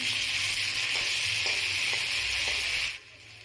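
Ginger paste sizzles as it fries in a hot pan for shukto. A loud, steady hiss carries a few faint stirring taps, then drops away abruptly near the end.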